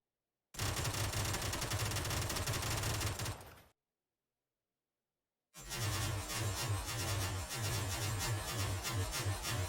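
Rapid burst fire from a Mutant rifle in a first-person shooter, loud and close. Two sustained strings of fast shots are split by a sudden gap of silence of about two seconds.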